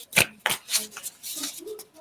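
Tarot cards are shuffled by hand in a few close, crisp slaps and riffles, followed by softer rustling.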